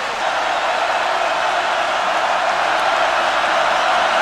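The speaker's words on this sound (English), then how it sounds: "Crowd roaring at Brown." Football stadium crowd at a college game between North Carolina State and Boston College roaring loudly, a steady wash of sound with no breaks.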